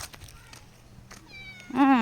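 A kitten meows a few times, with thin faint cries early on and then a loud, close, rising meow at the end, heard over quiet indoor background.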